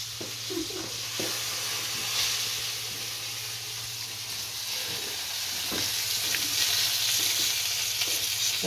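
Fish frying in a pan gives off a steady, close sizzle with occasional crackles and faint stirring or scraping, running unbroken for several seconds with no voices.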